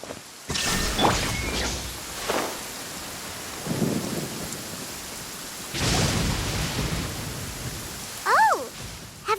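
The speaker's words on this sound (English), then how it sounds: "Paimon hears thunder!" Thunderstorm in the video game Genshin Impact, with steady heavy rain and several rolling thunder rumbles and cracks, then a short tonal game sound near the end.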